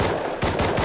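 Rapid M92 rifle gunfire from the video game Rust cracks out in a quick burst of about three close, sharp shots in under a second.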